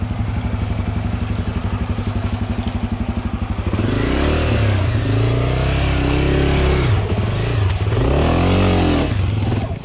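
Enduro motorcycle riding off-road on a rough loop, engine loud and close throughout, steady chugging idle giving way to repeated revving surges as the rider pushes through wet, muddy terrain.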